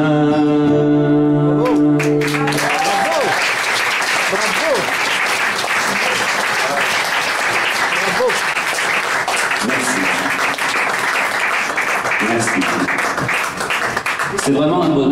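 A live audience breaks into loud, sustained applause after a song ends, dense clapping that carries on for many seconds, with a voice speaking over it briefly near the end.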